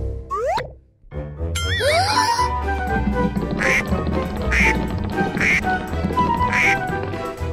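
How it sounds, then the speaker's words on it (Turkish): A cartoonish duck quacks repeatedly in a playful escape-room game for kids, over bouncy boing effects and busy music, the quacks recurring in a steady rhythm near and loud. "Ördek?"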